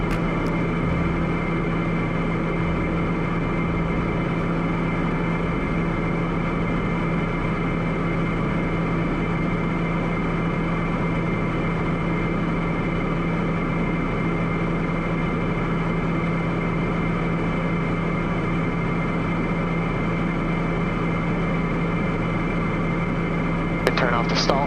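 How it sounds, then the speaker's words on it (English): A constant, even drone fills the cabin of a Piper Meridian M500 turboprop in flight during descent, with a strong low hum and a steady engine tone throughout. "Getting a little bumpy here, so we'll let the aircraft decelerate a little bit"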